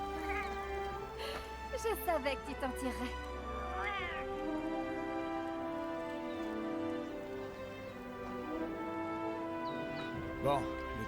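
A cat in the video game Léonie et le nouveau monde meows several times, with short rising and falling cries scattered across the scene, under French speech and a steady game soundtrack.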